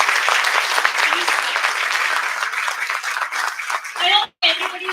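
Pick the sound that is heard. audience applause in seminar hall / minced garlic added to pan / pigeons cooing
audience applause in seminar hall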